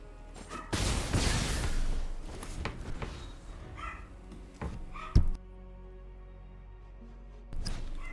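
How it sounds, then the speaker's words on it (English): Two small toy poodles barking indoors behind gameplay, a burst of loud yaps and thumps early on, then a few scattered sharp barks with quieter gaps between. "Also, I apologize for the dogs barking."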